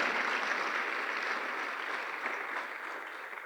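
A church congregation claps loudly in praise of God, a dense, steady wash of hands sustained evenly throughout at close range, with no one speaking over it.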